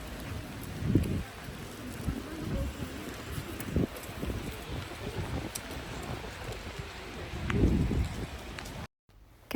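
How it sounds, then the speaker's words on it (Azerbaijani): Steady rain falls outdoors, a soft continuous hiss with low rumbling gusts, briefly cut off near the end. "Çox qəşəng yağış yağır"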